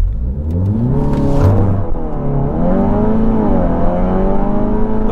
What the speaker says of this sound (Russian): Как только обороты у меня встанут примерно в районе 4000, сразу начинаем ускоряться.